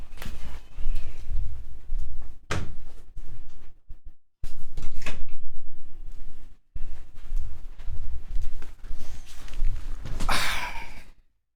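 A door knocks and thuds shut indoors at home, with a few separate bangs and handling noises between quiet gaps. It is loud and close, and no one is talking.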